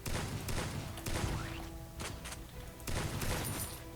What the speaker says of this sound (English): So you got a shotgun type of weapon.